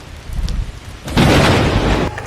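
Rainy-season storm: steady rain patters under a low rumble, then a loud roll of thunder swells in and holds for about a second before easing back to rainfall.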